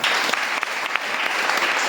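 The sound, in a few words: audience clapping for the teacher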